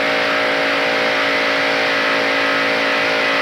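Pack of NASCAR stock cars from the 1992 Winston 500 running nose to tail down the backstretch, heard as a steady, loud, buzzing engine drone with sustained tonal whine and no break.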